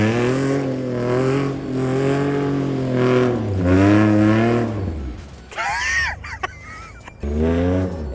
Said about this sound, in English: taking the JK into the mud, so it's not gonna be me driving